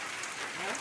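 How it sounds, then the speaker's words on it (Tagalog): Heavy rain pours down steadily, a dense continuous hiss of drops drumming on surfaces, close and even throughout the short stretch. "Oh, grabe suga sa ulan."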